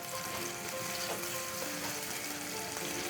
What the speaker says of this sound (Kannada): ಈರುಳ್ಳಿ ಗೋಲ್ಡನ್ ಕಲರ್ ಬರೋವರೆಗೂ ನಾವು ಫ್ರೈ ಮಾಡ್ತಾ ಬರಬೇಕು ಸ್ನೇಹಿತರೆ